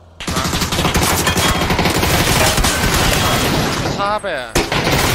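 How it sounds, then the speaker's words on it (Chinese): Loud, rapid bursts of automatic gunfire sound almost continuously in a shooting video game, and a voice speaks briefly among the shots. "没瞄准就开枪"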